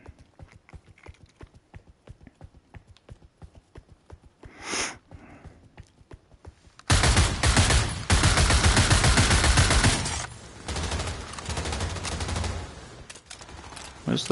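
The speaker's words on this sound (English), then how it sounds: "Let's go up here and start shooting." Gunfire in the VR shooter Pavlov, a search-and-destroy match: after several quiet seconds of scattered footsteps and small noises, a loud, dense burst of rapid shots erupts and carries on for about seven seconds, close and harsh.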